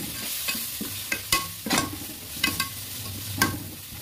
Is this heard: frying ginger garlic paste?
yes